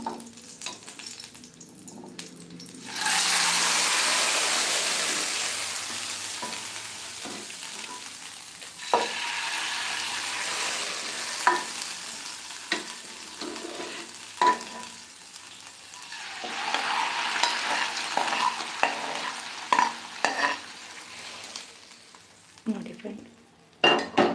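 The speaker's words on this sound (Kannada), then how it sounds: "ಒಗ್ಗರಣೆನ ಸಾಂಬಾರಿಗೆ ಇದ್ದೀನಿ" Spices crackle and sizzle in hot oil as tempering for lentil sambar, with a loud burst of frying followed by scattered stirring clinks and pops.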